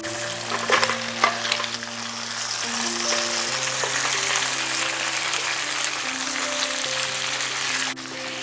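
Pre-fried chicken tipped into a pan of masala with tomato sauce, a loud, dense sizzle and stirring that swells after a few early knocks and holds steady, with a low steady hum beneath and no speech.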